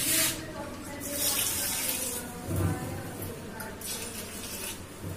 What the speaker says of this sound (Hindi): इसके बाद मैं इसमें थोड़ा पानी मिला देता हूँ